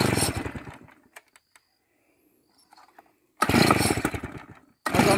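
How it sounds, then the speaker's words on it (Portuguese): A chainsaw engine roars, dies away into near silence with a few clicks, then roars back to life and revs again loudly. "Já tem uma semana que eu não trabalho com essa motosserra."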